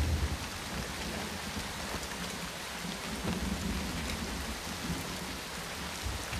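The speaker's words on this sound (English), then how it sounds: "Rain! My clothes!" Steady, heavy rain pours throughout, with a low rumbling undertone like distant thunder and no voices over it.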